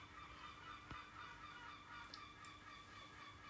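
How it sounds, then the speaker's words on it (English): Gulls cry out a few times in Brighton, brief high calls rising over a steady outdoor background hum, moderately distant. "that's the seagulls"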